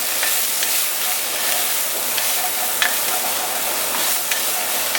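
Chicken stir fry sizzling steadily in a pan, a constant close hiss of frying with occasional brief scrapes and stirring clicks as browned bits are worked loose from the bottom, no voices.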